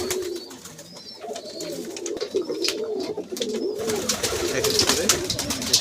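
Pigeons cooing in warbling, overlapping throaty calls while bathing in potash water, with splashy, fluttering noise building alongside them.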